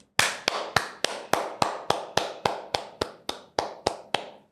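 A single pair of hands claps about thirteen times in a steady, evenly spaced rhythm, sharp and close, with no voices over it.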